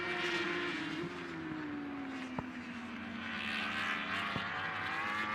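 Superbike motorcycle racing at Pannonia Ring in Hungary, an Alpe Adria championship round: a steady engine drone holds throughout, its pitch sliding gradually downward, with two sharp clicks or shifts and no talking.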